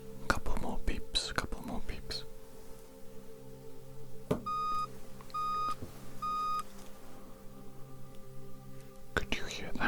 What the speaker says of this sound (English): Couple more beeps